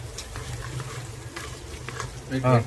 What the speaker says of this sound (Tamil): பச்சை மிளகா வெங்காயம் ரெண்டையும் போட்டு நல்லா வதக்கணும்.